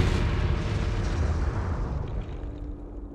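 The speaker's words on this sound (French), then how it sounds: "Le dictateur est en train d'étudier une carte d'état-major quand une bombe explose." A bomb explodes in a wartime military headquarters where a Nazi dictator studies a staff map, heard as a loud, close, deep boom that rumbles and slowly fades over a few seconds.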